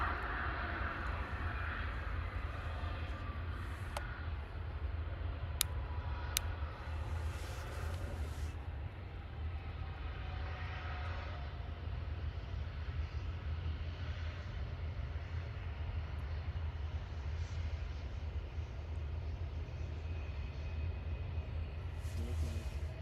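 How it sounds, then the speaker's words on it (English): A Lufthansa CRJ regional jet lands at Munich, a faint, distant steady engine rumble and rushing noise with a few small clicks early on. "a CRJ touching down right now"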